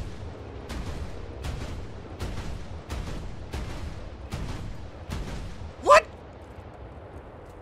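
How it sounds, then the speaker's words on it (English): A French 40mm anti-aircraft gun fires in a video game, seven or eight heavy, evenly spaced booming shots, loud and close, followed by a brief sharp high-pitched burst. "Anti-air gun, this is it!"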